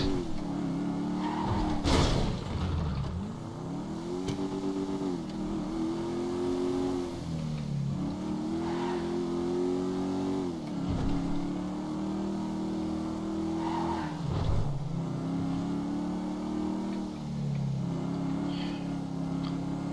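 A car in Grand Theft Auto 5 drives along roads, its engine droning steadily and rising in repeated revs as it accelerates, with short dips between gear changes, loud and close with no talk.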